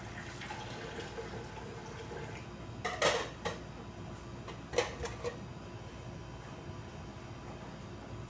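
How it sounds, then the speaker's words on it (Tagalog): Pots and cutlery clatter in running water while a cooking pot is washed after making Indomie noodles, with a steady background wash and a few sharper clanks around the middle. "Inugasan ko muna yung kaldero."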